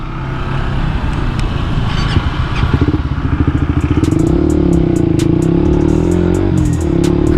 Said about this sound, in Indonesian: motor gua mati